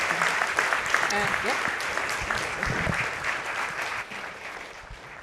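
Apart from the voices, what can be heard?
audience applause at a press club forum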